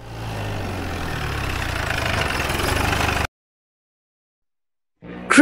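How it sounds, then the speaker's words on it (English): A jeep engine idles with a steady, rumbling drone for about three seconds, close and fairly loud, then cuts off into silence. "Jeep."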